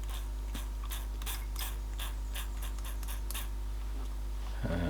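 A Copal Shahan RD-100 flip clock's 240-volt motor runs roughly, producing a quiet, uneven ticking and grinding gear rattle over a steady mains hum, with a small clunk near the end.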